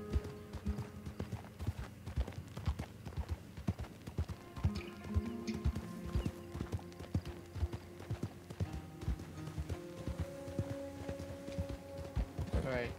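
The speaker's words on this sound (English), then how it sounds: "I already caught my first horse" Horse hooves clip-clop steadily at a brisk pace in the Red Dead Online video game, with music running underneath and a voice talking over the ride.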